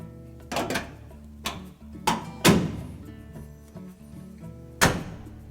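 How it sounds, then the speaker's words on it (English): A Whirlpool dryer door opening during a repair, with several sharp thunks and knocks spaced irregularly, close and fairly loud against a quiet room. "So open the door slightly."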